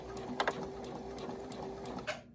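A domestic sewing machine runs a short reverse stitch at the end of a seam on fabric for a locker organizer pocket, giving a quiet steady whir with faint rhythmic ticking for about two seconds before stopping.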